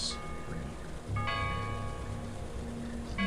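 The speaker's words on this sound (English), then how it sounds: "The church bells keep ringing, calling you home." Church bells ring on and off, faint and distant, heard from a moving car over a steady drone of road noise, with no talking.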